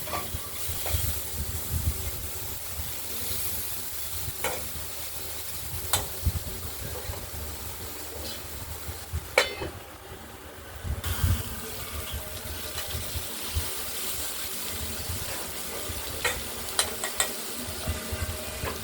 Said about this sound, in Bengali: কুমড়োটা ভাজা ভাজা হচ্ছে এখনো হয়নি একটু সময় লাগবে